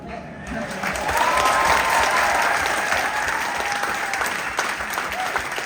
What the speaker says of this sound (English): Let's have a big applause for this amazing team of people